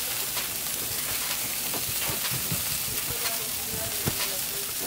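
Quiet sizzling and bubbling from a pot of crawfish on the heat at an outdoor cookout, a soft continuous hiss with small pops scattered through it.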